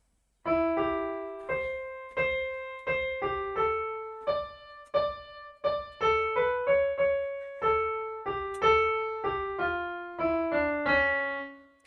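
Keyboard plays the Ganesh Aarti "Ek Dantay Vakra-tundaya" from bar 13, a steady run of clear, separately struck notes with a bright sustained tone, each note decaying before the next, played alone with no talking.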